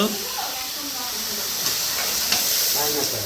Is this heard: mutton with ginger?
yes